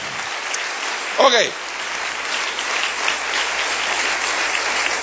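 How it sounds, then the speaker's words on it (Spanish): A church congregation applauding a sermon with a steady spread of clapping, while a voice briefly says a word over it near the start. "Dale un aplauso al Rey bendito"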